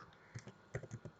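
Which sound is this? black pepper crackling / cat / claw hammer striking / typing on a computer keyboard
typing on a computer keyboard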